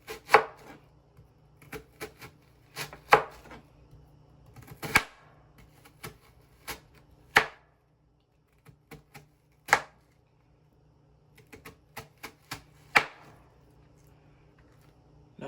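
Onions chopped with a knife on a board, sharp isolated thuds in an irregular rhythm with long quiet gaps between, close and distinct.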